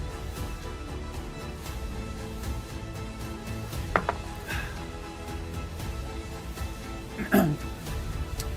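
A dog barks a few times in a new dog-themed video game shown at the Xbox Developer Direct 2026. Two short, fairly faint yelps, near four and seven seconds, stand out over a quiet, steady background.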